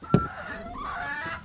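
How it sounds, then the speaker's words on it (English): A little rooster crows once in a short, rising and falling call, fairly near, with a brief scratchy sound at the start. "And my little rooster."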